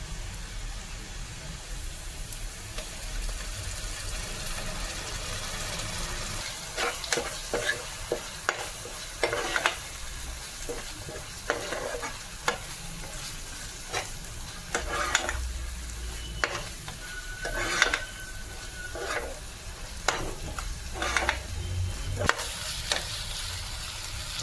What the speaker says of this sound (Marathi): वाटण घालून घेऊया याच्यामध्ये.